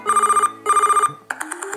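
A cheap smartphone plays a ringtone, two loud bursts of rapid trilling bell tones separated by a short gap, followed by a different brighter melodic chime starting up, heard alone and close.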